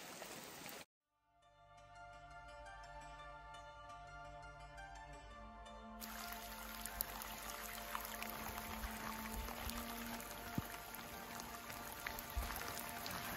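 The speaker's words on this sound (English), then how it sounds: "Rivers running down the campground." A river rushes past a campground on the John Muir Trail on a rainy day, a steady, loud wash of flowing water that continues without break after a brief silent gap at the start.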